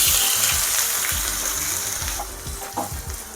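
Finely chopped onions drop into hot oil in a kadai and fry with a steady, loud sizzle and hiss, while a few clinks of stirring are heard toward the end.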